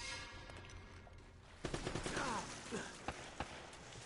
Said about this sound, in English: Don't need to shoot so tough.